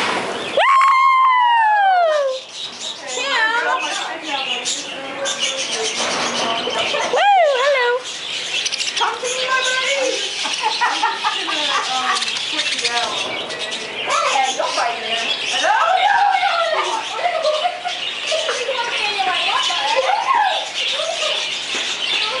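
Many small birds chirp, tweet and squawk nonstop inside a bird house enclosure at a convention, a dense chorus with swooping calls, while a person talks nearby.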